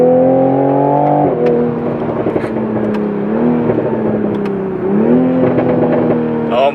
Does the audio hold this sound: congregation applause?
no